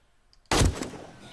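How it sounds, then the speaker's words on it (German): A single loud, sharp report from a new AK rifle in the survival game 7 Days to Die, bursting out of near silence and decaying in a short reverberant tail. "Ist der erste Schuss gewesen mit der neuen, mit der 6er AK"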